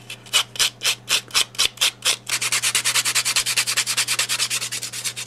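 Loud rhythmic filing of a watercolor paper jewelry pendant, up close and alone: several slow separate rasping strokes give way to a rapid, steady run of short back-and-forth strokes.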